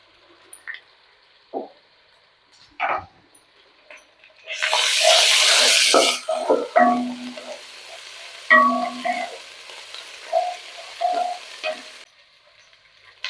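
Mint and coriander leaves are sautéed in a pan for biryani, with a burst of loud sizzling hiss in the middle framed by scattered spoon clinks and scraping stirs.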